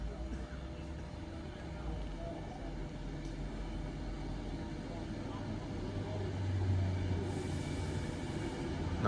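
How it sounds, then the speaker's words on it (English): A passenger train on a UK main line, running non-stop from Euston toward Manchester Piccadilly, approaches slowly with a steady low rumble that gradually swells louder toward the end. "Right, here's our next train now, straight through to Piccadilly, as in Manchester."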